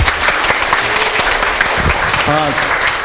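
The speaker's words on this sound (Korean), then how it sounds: "우리 요시우지상에 다시 한번 큰 박수 한번 좀 부탁드리겠습니다" Seminar attendees at a Korean beauty event give a big round of applause for a Japanese guest presenter, loud, close clapping sustained over several seconds, with a voice briefly heard near the end.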